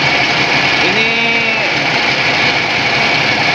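The PTO-driven vacuum pump on a septic suction truck runs off the transmission with a continuous, close, droning whir and a faint rising and falling whine, steady throughout.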